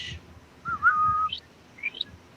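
A person whistles a few short, sliding tones, one held briefly and two quick rising chirps, fairly close and clear over a quiet background.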